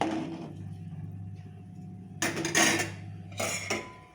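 Soaked rice for bagara rice stirred in a pot of boiling water, heard as two short bursts of scraping and swishing over a steady low hum.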